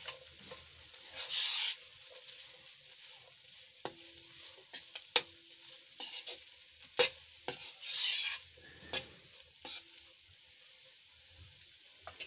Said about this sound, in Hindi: तो अच्छी तरह मिक्स कर लेते हैं।